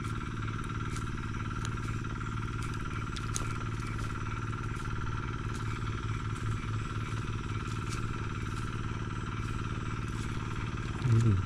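A farm water pump engine runs steadily throughout at a moderate distance, giving a continuous low mechanical drone with a faint rattle and no pauses.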